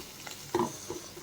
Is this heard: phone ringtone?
no